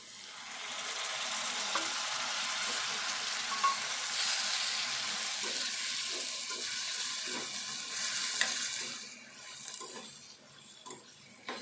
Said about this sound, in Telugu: ఈ శనగపప్పు ఉల్లిపాయ ఇట్లా వేగాలి.